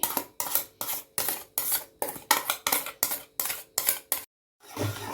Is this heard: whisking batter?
yes